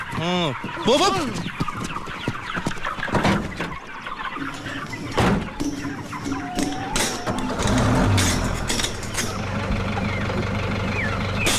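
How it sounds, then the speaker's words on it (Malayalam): Chickens in a vehicle cluck and squawk close by, with a low engine rumble and people talking in the background. "ഇതിൽ കോഴി അല്ലാതെ വേറെ ഒന്നുമില്ല സാർ"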